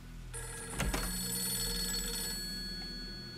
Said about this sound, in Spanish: Uy, suena el teléfono.